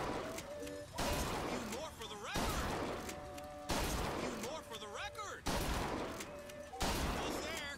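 Gunfire in the first-person shooter Bioshock Infinite: five or six loud, heavy shot bursts spaced about a second or more apart, with game voices and talk running between them.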